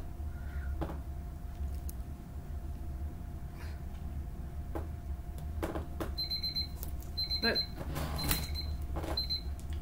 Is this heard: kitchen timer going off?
yes